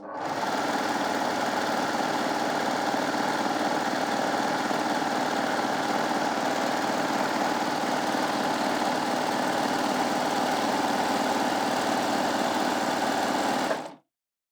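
Baby Lock Gloria overlocker stitching a decorative wave edge with woolly nylon thread in the loopers, running as one steady, loud, fast mechanical hum and rattle with no pause for about fourteen seconds before it stops.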